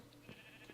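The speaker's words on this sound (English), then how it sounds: "is the multicoloured sheep farm, a rainbow sheep farm" Blocky Minecraft sheep on a rainbow-coloured sheep farm give a couple of faint, short bleats over quiet background noise.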